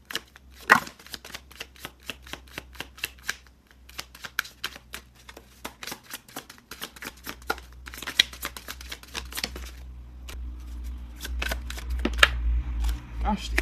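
A deck of oracle cards being shuffled by hand, giving rapid papery riffles and flicks in uneven bursts for over ten seconds, close and fairly quiet.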